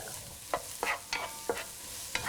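Onion, ginger and green chilli being sautéed in a hot pan, with five or six distinct scraping stirs spaced about half a second apart over a soft steady sizzle, close and moderately quiet, no talking.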